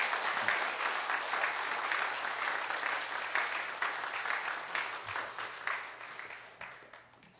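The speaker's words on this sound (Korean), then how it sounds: "한 번 더 큰 박수로 더." Church congregation applauding after a prayer in a worship service, a dense, steady burst of many hands clapping that gradually thins and fades toward the end, with no talk over it.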